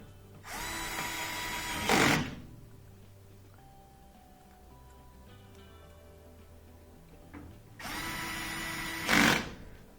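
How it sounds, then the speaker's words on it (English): A power driver sets screws into the back of a Whirlpool front-loading washer, with two loud whirring bursts separated by quieter handling noise in between. "then we're going to add those 3 screws on the back."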